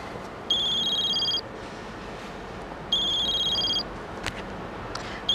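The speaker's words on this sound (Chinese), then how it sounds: "我接个电话。" A telephone rings twice, each electronic ring lasting close to a second with a gap between, over a quiet room with faint background noise and no speech.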